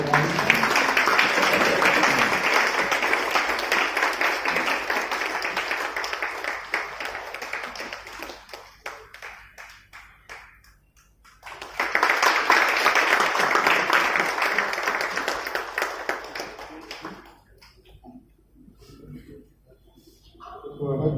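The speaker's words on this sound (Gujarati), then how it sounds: "તાળીઓના ગળગડાટથી આપણે આ સ્થાનને" At the Sandipani Sahitya Parva storytelling seminar honouring Dr. Raghavji Madhad, an indoor audience breaks into sustained applause twice, each round of clapping lasting several seconds before it fades out.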